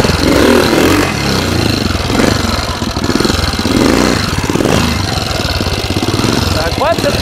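A Tobec motorcycle engine runs loud and close, with a throbbing mid-pitched drone that swells and eases in repeated pulses as the rider works the throttle.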